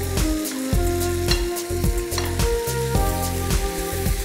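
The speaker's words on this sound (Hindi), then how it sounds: "so everything is stir fried here chicken के" Chicken stir-fried with soy sauce, vinegar and garlic in a hot pan, a steady close sizzle broken by rhythmic scraping stirs about every half second, no voices.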